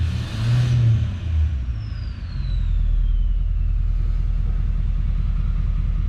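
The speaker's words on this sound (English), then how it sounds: "The turbo whistle is insane." A truck engine revs with a loud roar, then a thin high turbo whistle slides downward as the engine drops back to a steady low rumble.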